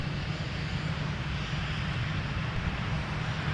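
An airliner powering up for takeoff from runway 17 at Minneapolis–St. Paul airport, a broad, steady roar of jet engines that stays loud and unbroken throughout.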